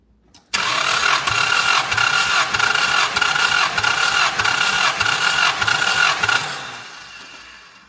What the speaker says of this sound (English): It's not really cranking that fast though.